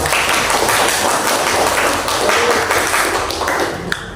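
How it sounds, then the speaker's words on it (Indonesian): Students in a school classroom clap their hands together, a loud, continuous patter of many hands, close and filling the room, with a few voices mixed in. "Tepuk tangan dong."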